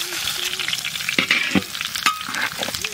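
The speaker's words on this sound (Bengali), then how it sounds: "ফোড়নে তেজপাতা, জিরে আর গরম মশলা গোটা দিয়ে দেবো ফোড়ন" Bay leaf, cumin and whole garam masala spluttering in hot mustard oil in a kadai, a close crackling sizzle broken by sharp stirring scrapes and pops.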